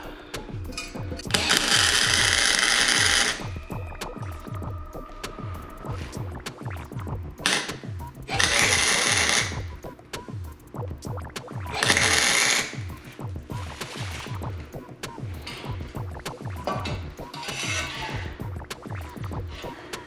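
A MIG welder tacks a turbo downpipe on an MK4 Jetta wagon in short repeated bursts of crackling, buzzing arc, each lasting a second or two between quieter gaps, close and loud, without speech.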